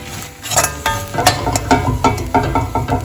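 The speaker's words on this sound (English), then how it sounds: "I'm going to add few drops of lemon juice and then mix them well." A spoon scrapes and clinks against a pan while lemon juice is stirred into a cooked dish, with irregular close taps and scraping strokes over a faint background hiss.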